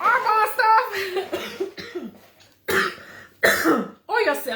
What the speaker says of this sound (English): hopefully you don't have the same cough that I do that needs to go away